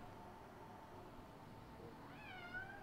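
A cat gives a single short meow near the end, a faint rising-and-falling call over quiet room noise.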